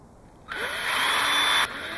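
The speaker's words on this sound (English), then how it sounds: "All that you do is drill." A power drill boring a hole through a plastic water bottle cap, a steady high whine starting abruptly, running about a second with a brief pitch sweep as it bites, then cutting off; close and alone.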